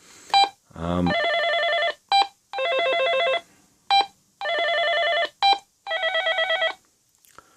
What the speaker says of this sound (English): Pretty much the same ringtone, just a different pitch